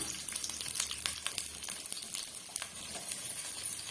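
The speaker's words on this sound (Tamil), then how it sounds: "இந்த ஸ்டேஜ்ல நம்ம வெங்காயம் சேர்த்துக்கலாம்।" Onions sizzling and frying in hot oil in a pan for mochai kuzhambu, a steady crackling hiss with occasional stirring clicks, close and continuous.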